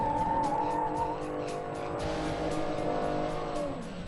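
A BMW Z4 drifting on the Chennai race circuit with stability control off, its tires squealing in a sustained, wavering howl over the engine's roar, heard from nearby at moderate loudness.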